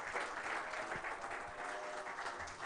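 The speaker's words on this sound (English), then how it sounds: "Can we have a round of applause" An audience at a book launch event claps together in steady, continuous applause that stays even and moderately loud throughout the short stretch.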